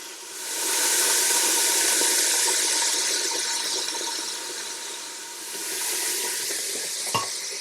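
Pork browning in hot oil inside a Ninja 15-in-1 cooker, a steady loud sizzle and crackle that swells for several seconds, eases briefly, returns, and ends with a single sharp knock, with no voices.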